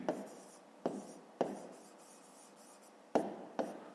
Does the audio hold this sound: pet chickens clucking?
no